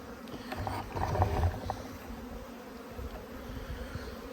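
Honeybees hum in an open hive, a low, fairly faint continuous buzz that swells briefly early on with a few nearby bees passing close, then settles to a steady drone.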